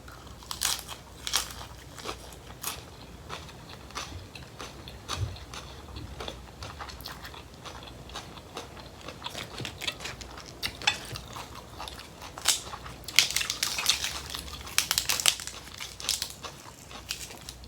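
Crispy seafood leaf wraps with sweet chili being bitten and chewed close up, with repeated crunchy bites and crackles in an uneven rhythm over about eighteen seconds and no talking.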